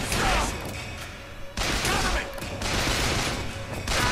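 Enemy gunfire crackles and rattles in dense, loud bursts during a Bioshock Infinite fight in the Bull House, with sharp volleys broken by a short lull, then more firing overlapping scattered thumps and crashes.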